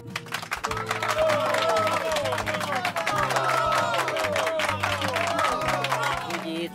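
A crowd applauds with dense, rapid hand claps that build quickly and hold steady, mixed with voices and cheering throughout.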